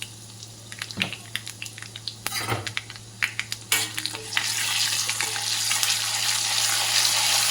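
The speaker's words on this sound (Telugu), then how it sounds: "2 లేదా 3 ఎండుమిర్చి, కరివేపాకు, పసుపు, ఇంగువ వేసి పోపు పెట్టుకోవాలి." Dried red chillies, curry leaves, turmeric and asafoetida crackle and pop in hot oil, with scattered sharp ticks that build into a steady, continuous sizzle.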